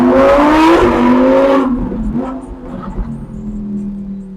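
A car engine revving hard with a rising, then falling whine, loud and close for the first second and a half before easing into a steadier, lower drone while cruising through Miami.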